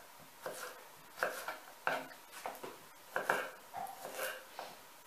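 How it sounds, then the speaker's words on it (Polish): Garlic being sliced with a knife on a board for fish soup, a series of soft, irregular chopping taps at close range, fairly quiet with short pauses between strokes. "po prostu sobie pokroję ten czosnek"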